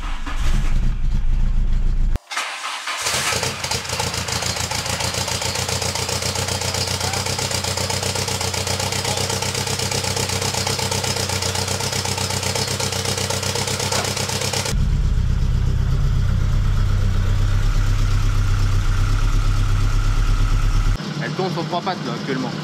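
A VW Golf 2 GTI with Digifant injection cranks and fires up, then settles into a loud, steady, uneven idle with a deep low rumble and some roughness.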